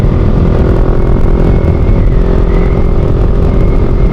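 A motorcycle rides along an open road near Sacobia Bridge in New Clark City, its engine droning steadily and loudly with wind rumble throughout.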